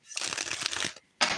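A tarot card deck being shuffled close by, one riffle of papery flutter lasting under a second, then a short pause and a second brief burst of card noise.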